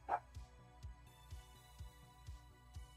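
A dog barks repeatedly in a room, a series of soft, fairly quiet woofs spaced roughly every half second with a faint higher yelp at the start.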